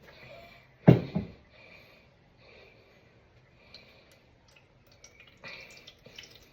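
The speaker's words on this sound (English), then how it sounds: "first we're gonna run some vodka through a Brita water filter" Vodka drips softly through a Brita water filter into a container, with a couple of sharper splashes early on and faint wet sounds later, quiet and close.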